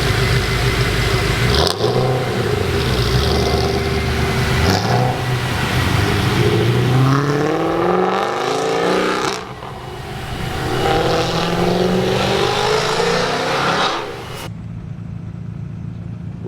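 Modified cars at the StanceWars show drive past and line up, with engines revving and accelerating up close in repeated swells over a steady traffic rumble, then dropping away abruptly near the end.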